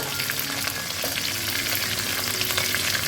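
Chopped pointed gourd and mixed vegetables for Bengali labra sizzle in a hot pan, a steady, close, dense crackle that holds through the whole stretch with no voices.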